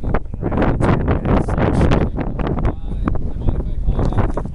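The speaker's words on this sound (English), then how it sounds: "the wind is strong" Strong wind buffets the microphone outdoors in a steady loud roar with rustling gusts throughout, and brief indistinct talk can be heard underneath.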